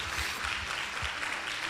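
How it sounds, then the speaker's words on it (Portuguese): Church congregation applauding during a Portuguese-language sermon, a broad wash of clapping with soft low thumps, sustained and even throughout. "Você pode aplaudir ao Senhor por esse tão grande amor?"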